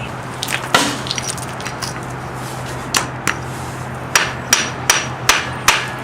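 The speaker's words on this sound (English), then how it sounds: "Area of previous patch has spalled and cracked and easily comes away with the hammer." Hammer blows knock loose spalled, cracked sand patching on a balcony, a series of sharp, close impacts coming irregularly then in a quicker run of about six strikes, with faint crumbling between and no talk.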